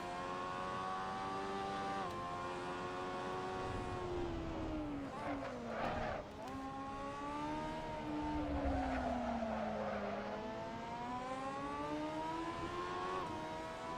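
Rush SR race car in Assetto Corsa on the California Highway 1 hillclimb, engine droning and revving up and down through corners with tire squeal, loud and close, a few shifts audible.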